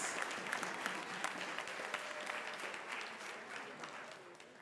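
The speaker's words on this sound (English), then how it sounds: "round of applause" An audience at the close of a formal debate on cashless versus cash-only society gives a sustained round of applause. The clapping is dense and steady throughout, fading slightly near the end.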